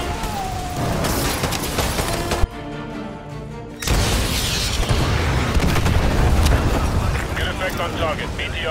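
A missile blast destroys a BTR armored vehicle in Call of Duty: Modern Warfare 2 Remastered, a loud, dense roar that returns after a brief lull, with constant battle noise and a radio voice talking throughout.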